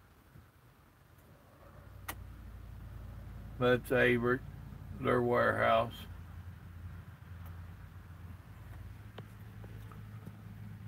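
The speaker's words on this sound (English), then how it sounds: "that's all them cars that you keep hearing right there in front of us" Cars pass on the road ahead of a truck stop near an industrial park and a large gas station, making a steady low traffic rumble throughout while someone talks briefly.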